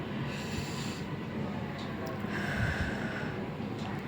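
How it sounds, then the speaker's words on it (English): A deep breath drawn in through the nose, loud and close, with a long airy rush rising and then easing off over several seconds. "And now take a deep breath."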